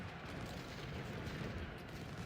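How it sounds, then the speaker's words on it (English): Friendly cannon fire during a Civil War battle in Ultimate General: Civil War, a continuous dense rumble of distant artillery and musketry blending into a steady low roar. "Oh no, that's friendly cannon."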